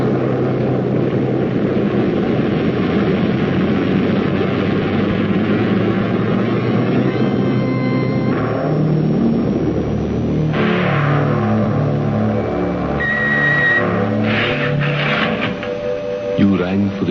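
Radio drama spaceship liftoff effect: a steady loud electronic rumble with rising whines and warbling tones layered over it, building continuously throughout.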